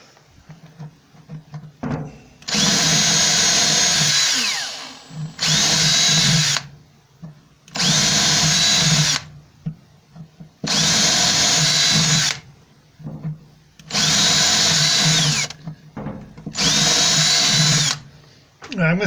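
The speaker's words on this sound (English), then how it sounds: "I'm going to try doing some drilling now, just to see how this works." A power drill drilling under a house runs in repeated bursts of about two seconds each, whining loudly, separated by short quiet pauses.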